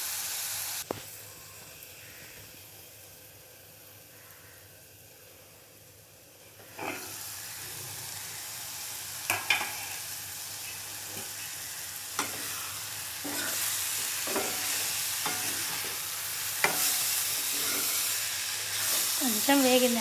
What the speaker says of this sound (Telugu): కొంచెం వేగాలండి. వేగినాక మళ్ళీ నేను చూపిస్తాను.